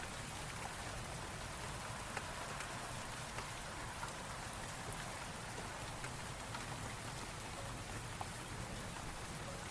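Steady rain falling on a surface, a dense, even hiss with faint scattered drops and no other sounds throughout.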